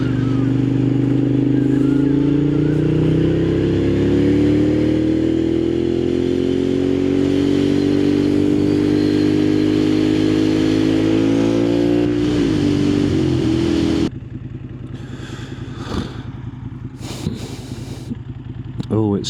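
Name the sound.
Moto Guzzi Griso motorcycle engine revving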